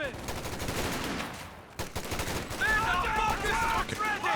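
Gunfire in Company of Heroes 2 during a competitive 1v1 match: sustained bursts of machine-gun and rifle fire rattle continuously, briefly drop out, then resume with rapid shots mixed with other battle effects under a commentator's voice.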